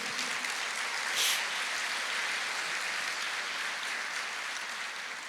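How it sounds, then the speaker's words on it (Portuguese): A church congregation bursts into steady, dense applause that fills the room and holds evenly for several seconds. "Glória a Deus, pode aplaudir."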